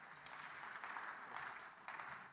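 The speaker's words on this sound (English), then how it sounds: "Please welcome him with a round of applause." A conference audience at a Ukraine support event gives a round of applause welcoming a speaker to the stage, distant and faint but steady clapping in a large hall.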